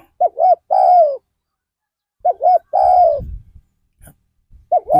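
A spotted dove coos nearby in repeated phrases, each a pair of short notes and then a longer drawn-out coo, separated by pauses, with faint background noise.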